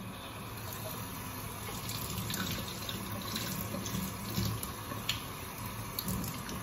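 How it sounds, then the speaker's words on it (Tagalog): Water running and pouring into a steam iron being filled for cleaning, a steady close splashing trickle with a few small clinks. "Lagyan na natin ng tubig."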